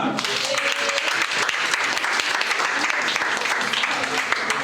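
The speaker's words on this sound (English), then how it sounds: "Clap for her." Loud, sustained applause from a crowd at a community giving-back gathering, many hands clapping together in a thick, even roar throughout.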